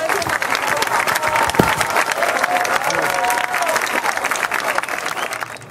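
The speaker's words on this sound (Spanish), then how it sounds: "Por favor, un inmenso aplauso a todas." An audience gives sustained, lively applause, dense clapping with a faint murmur of the crowd underneath, continuous until it tapers at the end.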